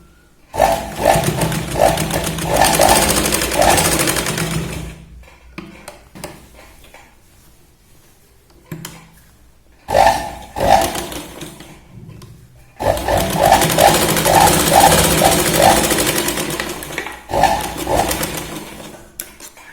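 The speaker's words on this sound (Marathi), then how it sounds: "शोल्डरला आपण 2 ते 3 वेळा शिलाई लावून व्यवस्थित मॅच करून घेऊया." Sewing machine stitching the shoulder seam of a small t-shirt, running loud and close in two long bursts with a short burst between them, separated by near-silent pauses.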